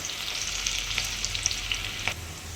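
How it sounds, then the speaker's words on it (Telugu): Onions fry lightly in a pan for moong dal khichdi, giving a bright, hissing sizzle with small pops scattered through it. A brief stirring scrape comes near the end, and the clip has no speech. "ఉల్లిపాయలు బాగా లైట్గా ఫ్రై అవ్వాలి."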